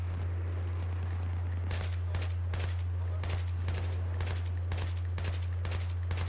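Assault rifle fire in Battlefield 3 multiplayer comes in repeated short bursts of sharp, loud shots at a fairly regular rhythm over a steady low hum.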